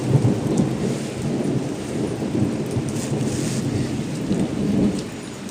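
Heavy thunderstorm with steady loud rain and a deep, continuous rolling thunder rumble throughout, swelling slightly near the end, with no voices.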